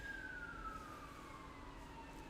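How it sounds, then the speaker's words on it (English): A faint, distant ambulance siren sweeps slowly downward in pitch over a low rumbling traffic background. "hold on. Ambulance."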